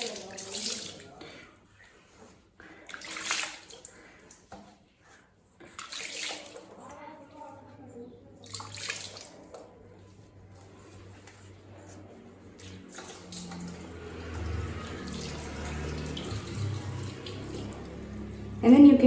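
Water pours and splashes while rinsing shampoo from a baby's head during a bath, a quiet trickle at first that grows into a steadier, louder rush toward the end, with faint voices early on.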